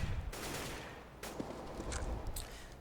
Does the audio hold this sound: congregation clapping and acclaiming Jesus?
no